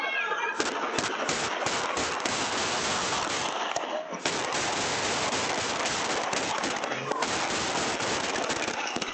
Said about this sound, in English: A barrage of bullets outside a downtown LA warehouse party sends dozens running in fear as more gunfire erupts.